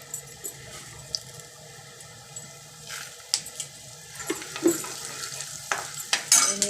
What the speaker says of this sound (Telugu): వేయించుకున్న తర్వాత ధనియాలు వేసుకోవాలి.